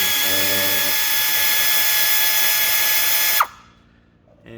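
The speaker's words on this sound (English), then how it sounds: "I happen to have an air ratchet handy and some compressed air." A pneumatic air ratchet run on compressed air spins door lock bolts during a power door lock and latch replacement, giving a loud steady whine that cuts off abruptly near the end, leaving quiet.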